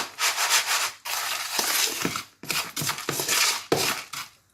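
A spoon stirs baking soda, salt and citric acid powders together in a bowl, making close, gritty scraping and rubbing strokes in short repeated bursts separated by brief pauses.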